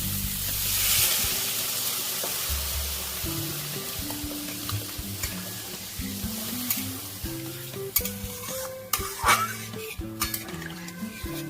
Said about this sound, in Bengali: মশলাটা আমার কথা হয়ে গেছে এবার আমি জল দিয়ে দিচ্ছি